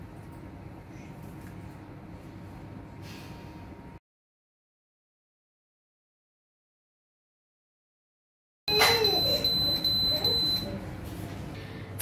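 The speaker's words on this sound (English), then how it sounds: "So that beeps only means that you are done sterilizing." After a low background hum and a stretch of silence, a baby bottle steam sterilizer gives a high, piercing electronic beeping alert that continues insistently, signaling the sterilizing cycle is done.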